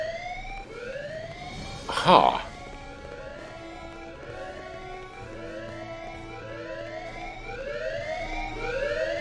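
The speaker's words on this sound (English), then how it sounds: "Fire alarm has been triggered." Fire alarm in the video game Hitman 2: Silent Assassin, a repeating rising electronic siren sweep cycling steadily throughout, with a brief spoken interjection near the start.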